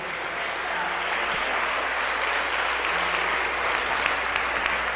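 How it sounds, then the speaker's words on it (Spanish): Church congregation applauding during a Sunday sermon, a broad steady wash of many hands clapping at once, sustained evenly throughout with faint voices mixed in. "Entonces, dale un aplauso al Señor con todo tu corazón."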